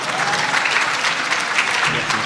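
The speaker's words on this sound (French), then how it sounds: "Applaudissez-le bien fort." Audience at an Afro-descendant trade fair applauding a speaker, dense and loud clapping close by that keeps up and then softens slightly near the end.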